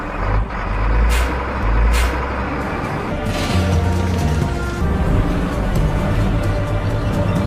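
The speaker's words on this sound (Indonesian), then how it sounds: "mobil yang Jeff tumpangi tiba-tiba berhenti setelah si supir kebelet pipis" A vehicle carrying an escapee in the film Roofman comes to a sudden stop mid-journey, with a steady low engine rumble throughout and two sharp hissing air-brake bursts early on, close and loud.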